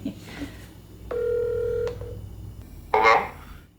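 A quiet room, then a held telephone keypad tone followed by a short burst of dialing beeps.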